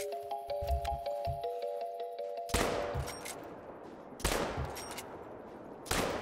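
Three loud, sharp shotgun blasts of birdshot fired at a Cape Buffalo in the hunting game theHunter: Call of the Wild, spaced about two seconds apart, each with a short decaying tail, following quiet ambient tones.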